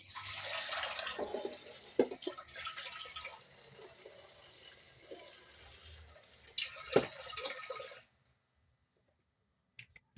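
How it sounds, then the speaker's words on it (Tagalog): Water poured from a tap into a pot for steaming crabs, a steady close splashing fill that runs for about eight seconds before stopping, followed by faint clinks. "Lagyan natin siya ng konting tubig."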